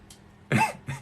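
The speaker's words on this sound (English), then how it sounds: "When I cough on purpose, I hiccup." A short deliberate cough bursts out close to the microphone, followed quickly by a softer, brief catch in the throat like a hiccup, heard alone without talk.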